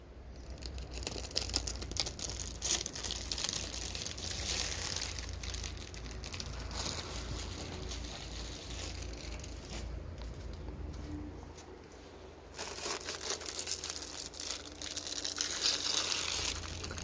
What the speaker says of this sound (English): I will go ahead and start taking the tape off.